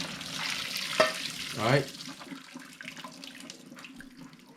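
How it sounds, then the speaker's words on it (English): Water from blanched zucchini drains into a sink with a gushing splash that swells briefly and then trickles off, as a person speaks a few words nearby. "Just drain the water out."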